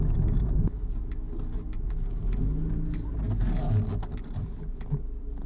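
A 2003 Mazda 323F 1.6 being parked, its engine a low steady rumble from inside the cabin with a slight rise in revs, interior clicks and mechanical sounds over the hum, no talking.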